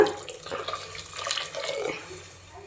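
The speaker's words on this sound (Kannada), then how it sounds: "ನೀರು ಆ್ಯಡ್ ಮಾಡ್ಕೊಳ್ಳೋಣ" Water pours into a pan of vegetable sagu with freshly ground masala, a steady splashing stream lasting a few seconds at close range with no talking.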